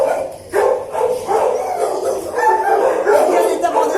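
Dogs barking in the kennel boxes of an SPA animal shelter in Bergerac, a rapid run of loud, close, echoing barks and yips that keep going throughout, with people talking underneath.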